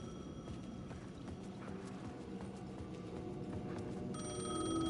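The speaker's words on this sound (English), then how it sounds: "The payphone was ringing." A payphone rings in Alan Wake 2, its bell-like tones rising out of a dense, murmuring game soundscape and growing clearer toward the end.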